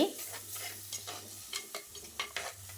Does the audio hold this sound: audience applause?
no